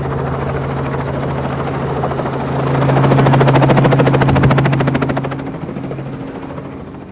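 A helicopter comes down onto the natural landing spot at Widgeon Lake, its loud close rotor thump chopping steadily over a droning turbine whine that swells and then eases as it settles.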